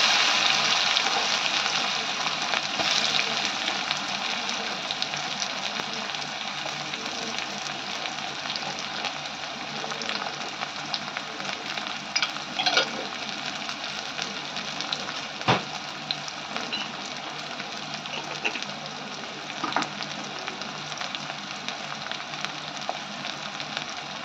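Onion frying in hot oil with mustard seeds, cumin and curry leaves for a spiced potato curry, a continuous close sizzle with occasional crackles and stirring noises, no one talking.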